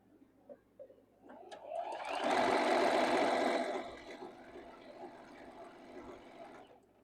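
A sewing machine stitches a quilt block seam in a short burst of about two seconds, rising from quiet handling clicks and fading back to soft rustling.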